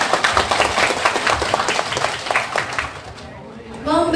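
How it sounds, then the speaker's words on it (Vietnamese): Audience applause at a high school quiz show, a steady wash of clapping that fades toward the end as a voice begins speaking. "Quý vị hãy cho bạn Phương Huy một tràng vỗ tay nào."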